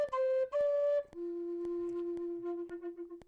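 A whistle melody in a composed music piece: a few clean sustained tones, then a long held note with a light steady tick beneath, fairly quiet and with no voices.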